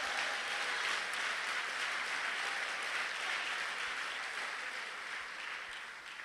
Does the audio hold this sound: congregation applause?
yes